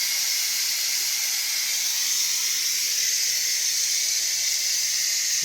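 Steam hisses steadily from a pot of just-cooked rice left to vent, a constant bright airy rush at fairly loud, close level with no voices.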